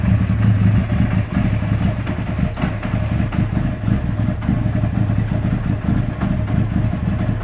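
Honda Fireblade sport motorcycle engine running steadily nearby, a loud continuous idle with an even, slightly clattery low pulse and no talking over it.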